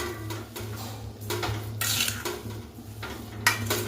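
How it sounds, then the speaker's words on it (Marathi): A spoon stirs semolina sheera with sugar in a metal pan, giving repeated scraping clinks and knocks against the pan in an irregular rhythm, close and fairly loud, with no talking. "आणि हे हलवून घेतोय आपण आता"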